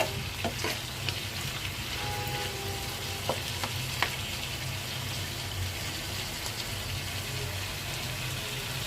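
Mixed vegetables sizzle steadily in a frying pan, a constant close hiss with a few faint scrapes and taps as they are stirred.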